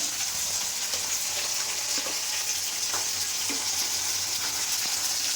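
Fish curry frying in hot oil, a steady close sizzle that runs throughout, with occasional soft stirring clinks and no talking.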